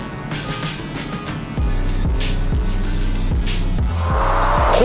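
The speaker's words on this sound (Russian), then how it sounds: "Ходом едут, лучше стартуют Audi A7." An Audi A7 and a Mercedes-AMG E53 launch in a drag race, starting with a waiting idle, then a sudden loud surge of engine roar through stepped gear changes, ending with a tire squeal.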